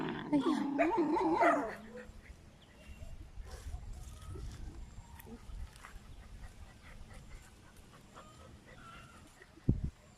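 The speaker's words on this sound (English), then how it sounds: "They're barking." Dogs playing outdoors after a rain shower, a short run of close barks and yips at the start, then quieter shuffling and distant noises with a brief thump near the end.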